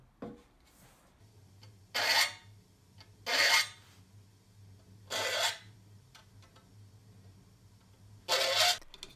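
A cheap Husky hand saw cutting, heard as four separate bursts of coarse rasping strokes spaced a couple of seconds apart, close up, with a low steady hum running underneath.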